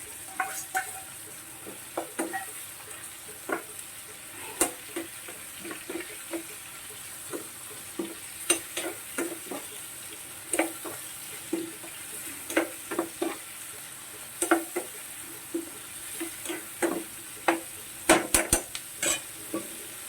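Fish curry with tomatoes being stirred in a pan, a soft steady frying hiss with repeated spoon scrapes and taps scattered throughout, close and moderately quiet.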